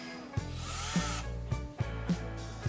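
A handheld power drill whirs in short bursts as its speed shifts, with sharp clicks and ratcheting knocks between runs, close and fairly loud.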